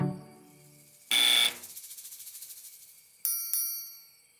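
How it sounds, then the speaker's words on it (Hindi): A cartoon buzzer blares in a short harsh burst, then trails into a ringing, pulsing decay before two sharp electronic dings sound near the end; no talk. "तुम ये बजर बजा सकते हो गारफील्ड, पर इससे कुछ नहीं होने वाला।"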